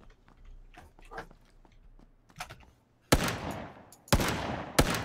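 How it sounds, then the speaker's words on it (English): Several sharp, loud gunshot bursts from the video game PlayerUnknown's Battlegrounds, spaced irregularly over the second half, each trailing off, following quieter scattered clicks and soft background noise. "Gunshots? Is that you?"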